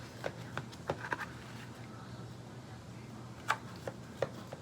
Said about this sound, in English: Let me cut the cornbread.